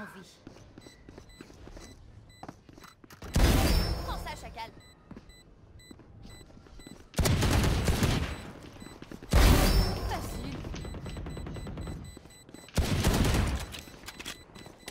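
Bursts of automatic gunfire from a weapon in the video game Valorant come in four loud spells over steady game ambience, with players chatting in French between and over the shots.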